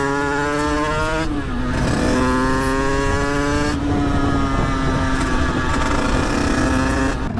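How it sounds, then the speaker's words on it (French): A Yamaha MT-07 motorcycle ridden on a road with gravel, its engine droning loud and close, pitch sliding down on gear changes and rising again as it pulls steadily. "Ah, la moto comment elle roule bien."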